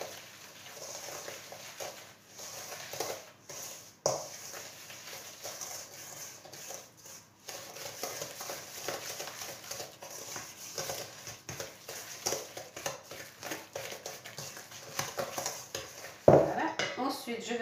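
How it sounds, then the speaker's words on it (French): Egg yolks, vanilla sugar and granulated sugar being mixed in a bowl for a raspberry Swiss roll sponge, with steady scraping and clinking of a utensil against the bowl, ending in a louder knock. "Je vais venir mélanger mon sucre vanillé et mes 200 g de sucre."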